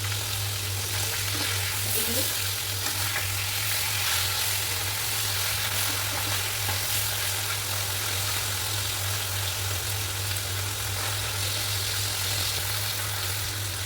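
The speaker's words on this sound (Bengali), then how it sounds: "মাছটা খুব সুন্দর করে ভেজে ভেজে যাবে।" Rohu fish pieces fry in oil with a steady, close sizzle over a constant low hum and no talking.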